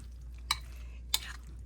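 Two short, sharp scrapes of a spoon stirring cut dry curry leaves in a pan, separated by a quiet pause over a faint low hum, no talking.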